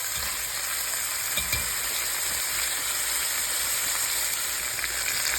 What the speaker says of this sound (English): So let me just sear that side and I'll bring you guys back.